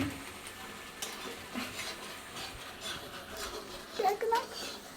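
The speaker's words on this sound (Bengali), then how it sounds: "দেখো এখন এখানে মশলা কষা হচ্ছে এঁচোড়ের।" Spices fry for a jackfruit curry in a home kitchen, with soft sizzling and occasional scraping stir strokes in the pan. The sound stays faint, with voices nearby.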